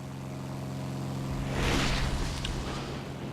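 Propeller airplane engine in a flight combat video game, a steady droning hum that swells briefly louder midway, then settles, with no talking over it.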